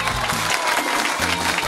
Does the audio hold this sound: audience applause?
yes